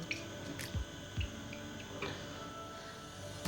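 Beans and chicken wings stirred in a pot of water in a home kitchen give a few soft, quiet sloshes and clinks spaced out over a few seconds, with no talking.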